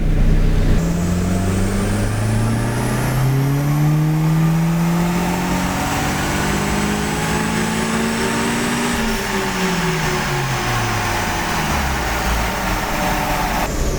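Turbocharged car engine revs under load during a boost test with an electronic boost controller set to wastegate spring pressure, a loud, close, continuous drone climbing in pitch, then dropping back.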